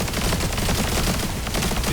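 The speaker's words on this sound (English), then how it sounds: "when you summon the drone and you shoot your rockets, it does a double explosion" Rockets fired by a summoned drone in The First Descendant burst in double explosions, part of a loud, continuous wall of gunfire and blasts that fills the whole stretch without a break.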